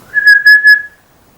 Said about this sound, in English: Can I whistle?